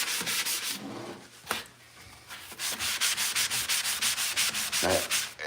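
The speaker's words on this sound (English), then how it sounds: "I take the sponge sander and" A sponge sander rubs back and forth across a cabinet drawer face, giving a run of close, rhythmic abrasive strokes, steady and regular throughout with no talking.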